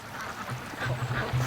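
Ducks at a lake quack several times in short, fairly close bursts that grow denser toward the end, over a steady background hiss.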